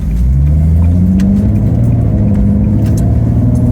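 A Nissan 370Z fitted with an aftermarket air intake pulls away on a wintry UK road, its engine a loud, close, continuous rumble with a rising drone as it accelerates.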